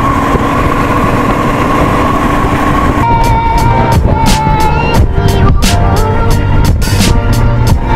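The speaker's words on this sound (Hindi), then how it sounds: "ट्रेनों की आवाजाही है" Train passing loudly nearby in the early morning, a continuous heavy rumble with rhythmic rail clatter, heard from a Suzuki V-Strom 250 SX stopped on an off-road ride.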